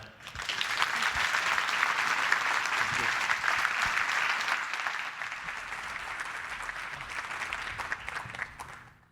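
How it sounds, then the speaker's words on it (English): Audience at an awards breakfast clapping, a sustained, even roar of applause from a large room that holds steady for several seconds before tapering off at the end. "I know you just stopped clapping"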